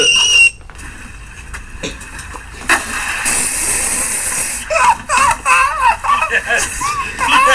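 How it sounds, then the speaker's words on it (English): A girl screaming in a fail clip, shrill rising squeals and wavering cries in bursts over noisy background, with other voices talking and reacting around her. "That girl screaming was perfect"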